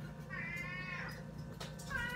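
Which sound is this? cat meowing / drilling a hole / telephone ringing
cat meowing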